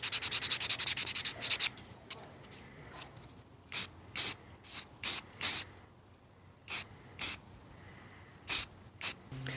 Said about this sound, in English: spray it all over this so that it fills in the layer lines, and then sand it smooth